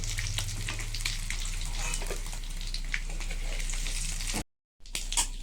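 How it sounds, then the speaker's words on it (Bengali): Fish roe fritters frying in a pan of oil, a steady close sizzle and crackle with a low hum underneath, briefly cut off near the end before resuming. "বড়াগুলো আমি উল্টে দিয়েছি। এবার লাল লাল হয়ে ভাজাও হয়ে গেছে।"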